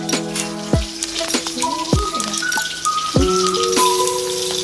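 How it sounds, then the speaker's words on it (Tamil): Onion, ginger, garlic and tomato sautéing in hot oil with mustard seeds in a pan, a steady crackling sizzle broken by several sharp clinks of a spoon stirring against the metal, close and fairly loud with no talk. "அப்புறம் கொஞ்சம் வதக்கி கொள்ளவும்"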